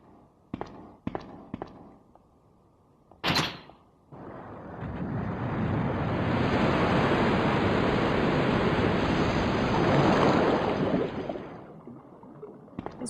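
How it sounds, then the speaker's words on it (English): Water rushes in and floods an area in Resident Evil 2 with boxes to push into a path, a loud broadband surge swelling for several seconds after a few sharp clicks and a brief burst, then fading. "Where we got to push all the boxes to make a path when the water floods the area."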